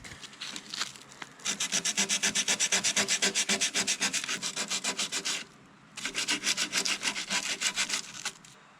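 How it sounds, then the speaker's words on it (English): Painted surface on a 1988 Ford Bronco II being scuffed by hand, a fast, even run of rhythmic rasping strokes close up, with a brief pause partway through before the scrubbing resumes. "so I'm gonna scuff up those, maybe try to get some of the silicone off too"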